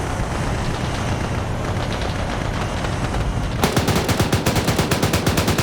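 Rapid gunfire in a military video game, with dense distant shots under the first half and then a close, loud burst of sharp, evenly spaced automatic rounds, alone without talk.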